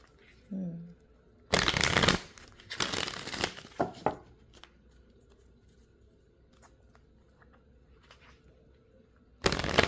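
Tarot cards being shuffled in a few loud riffling bursts close to the mic, separated by quieter stretches with light handling noise.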